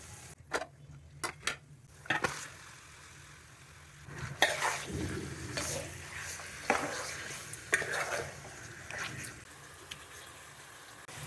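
Marinated chicken pieces frying in a pan for a Konaseema-style coconut chicken curry, with intermittent scraping and stirring clatters over a soft, steady sizzle, close by and without talk.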